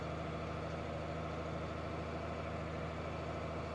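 Tractor engine running steadily in a field while planting soybeans, a constant low rumbling drone heard from close by, with no talk.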